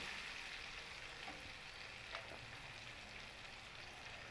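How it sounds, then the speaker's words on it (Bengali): Potato pieces fry in hot oil with salt and turmeric, a steady soft sizzle that carries on evenly throughout, with a faint scrape or two from stirring and no voices. "একবারে লালচে কালার করেই আলুগুলোকে ভেজে নেব।"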